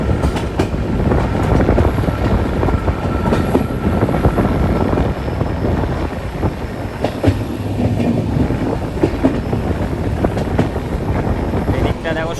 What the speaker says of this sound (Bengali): আমরা এখন ফুলফিল ডিপার্চার করছি আগরতলা রেলওয়ে স্টেশন।